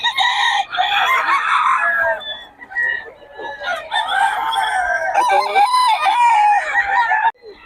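Roosters crowing and chickens clucking at a poultry market, loud and near. Many birds call over one another almost continuously, with overlapping crows rising above a dense clucking chatter.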